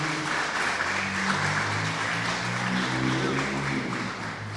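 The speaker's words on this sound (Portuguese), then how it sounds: "Você pode aplaudir ao Senhor por isso?" A church congregation applauds together in a long, steady wash of clapping that fills the room and tapers slightly near the end.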